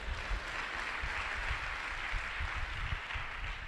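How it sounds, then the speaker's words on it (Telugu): A church congregation clapping together during a sermon, a dense, steady wash of many hands sustained throughout at moderate loudness. "కొట్టు చప్పట్లు ఒకసారి"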